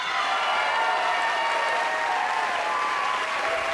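A TV studio audience applauds loudly and evenly for a comic actress, a thick unbroken roar of clapping held at full volume throughout.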